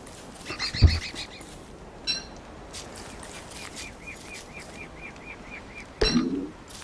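A horse in the video game Don't Starve Together neighs in a high whinny, followed by a short series of repeated calls and another loud whinny near the end, close and clear with light background noise.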